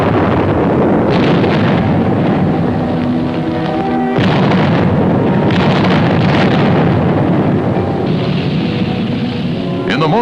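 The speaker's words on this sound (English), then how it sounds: "Our artillery engaged in a duel with enemy guns." WWII artillery fire in an August 1944 gun duel in France rolls as heavy, loud booms and sustained rumbling blasts, with wind-like roar between shots.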